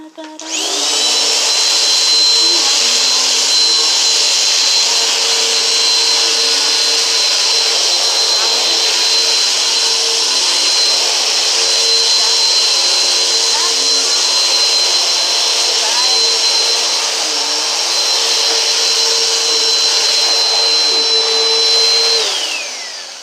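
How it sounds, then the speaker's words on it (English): A household vacuum cleaner runs steadily and loudly up close for over twenty seconds, with a constant high whine riding over the motor roar, starting and stopping cleanly at either end. "So I'm gonna vacuum real quick, and y'all get to hear every bit of it."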